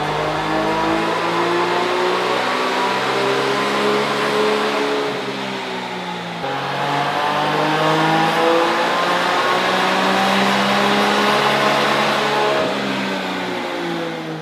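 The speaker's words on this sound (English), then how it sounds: "we did our first initial dyno pulls" A production Can-Am Maverick R MAX engine roars through hard sustained dyno pulls, its pitch climbing steadily, dropping briefly partway, then rising again in a loud, close, continuous wail.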